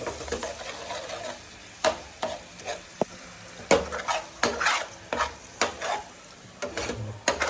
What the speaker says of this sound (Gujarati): ચલો હવે ટામેટાની પ્યુરી મસ્ત નાના મિક્સ કરી દઈએ.